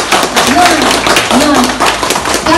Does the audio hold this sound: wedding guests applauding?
yes